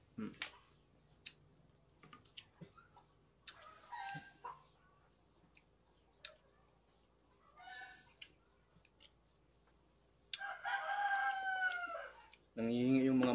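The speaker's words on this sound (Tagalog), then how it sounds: "Nangihingi yung mga manok." Chickens cluck in short scattered bursts at a rural countryside home, then a rooster crows loudly and close near the end, with some faint talking in between.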